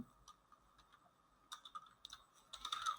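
Typing on a computer keyboard while entering a short description for a food business Facebook page; soft, scattered keystrokes at first, turning into a faster, louder burst of clattering keys toward the end.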